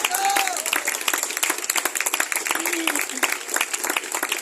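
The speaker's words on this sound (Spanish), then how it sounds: "Denle un aplauso a Dios por eso." A church congregation gives a lively round of applause, many hands clapping in a dense, fast patter at close range, with brief voices rising over the clapping.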